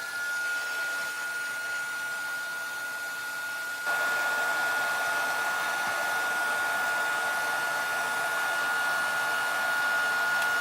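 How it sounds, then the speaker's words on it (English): A handheld heat tool for embossing powder blows a steady, whirring, fan-driven hiss close by, jumping louder a few seconds in and holding constant with a faint tonal whine. "So I'm going to get my heat tool nice and heated up."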